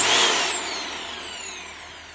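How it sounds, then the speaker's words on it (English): A Shark NV351 vacuum cleaner motor runs with a loud, high-pitched whine close by that slowly winds down in pitch and volume, with no talking. "There is nothing wrong with the motor on this vacuum."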